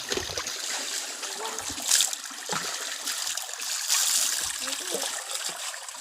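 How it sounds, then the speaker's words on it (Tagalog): Water from an underground spring trickles and splashes close by at Tiwi, Albay, a continuous gentle flow with a few brief louder splashes. "Ito yung tubig kung saan nasa ilalim siya ng lupa."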